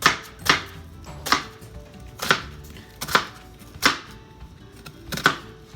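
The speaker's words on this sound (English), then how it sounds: "So we're going to start by finely mincing an onion." A knife finely minces an onion on a cutting board in about seven crisp, evenly spaced chops, close and clear with no voices.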